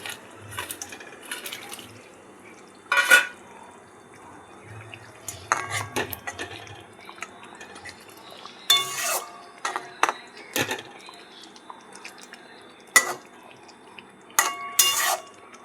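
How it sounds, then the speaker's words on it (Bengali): Fried fish pieces go into a pan of boiling curry, giving scattered clinks of utensil on pan and soft wet splashes against a low bubbling background, with no talking. "ঝোল ফুটে গেছে, এবার দিয়ে দেবো ভেজে রাখা মাছ।"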